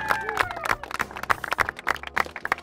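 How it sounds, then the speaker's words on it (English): Golf gallery at Llanerch Country Club clapping for the players, scattered irregular claps mixed with crowd noise and a voice talking over it. "Another nice applause for everyone."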